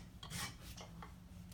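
A saw scores the surface of a block of ice being shaped into a pedestal, making two or three short, faint rasping strokes close by. No talk is heard.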